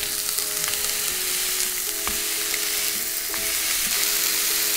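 Smashed burger meat patties sizzle steadily on a hot griddle, a loud, close, continuous frying crackle with faint metallic scrapes and taps throughout and no talking.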